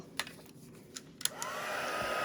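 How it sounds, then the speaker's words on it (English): An embossing heat tool starts up and blows steadily, heat-setting embossing powder on a handmade birthday card, its whine rising and holding loud and close after a few faint taps. "Just going to come in with my embossing powder and let's heat set that."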